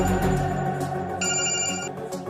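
A telephone ringing with an electronic tone, steady close rings over a short stretch above low background sound, with no talking.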